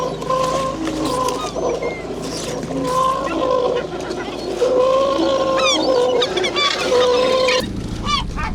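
A large flock of seabirds calls continuously around a fishing boat, with overlapping squawks, cries and rising shrieks, some close and loud, over the steady drone of the boat's engine.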